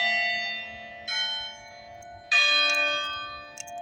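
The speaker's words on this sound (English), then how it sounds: "For whom the bell tolls." A church bell tolls twice, each clear ringing strike fading slowly into a lingering hum, with the second stroke louder and nearer than the first.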